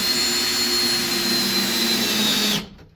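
A power drill runs steadily as it backs a screw out of a framing board, its motor whine loud and even for over two seconds before cutting off abruptly.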